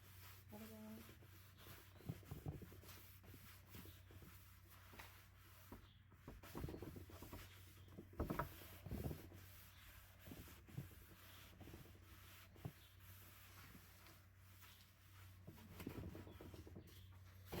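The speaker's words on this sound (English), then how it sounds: "you put a little stain down and rub it." Wood stain being rubbed by hand into a new board to make it look like barnwood: a quiet, steady scrubbing and rubbing with irregular soft swipes and small knocks, close up, with no talk.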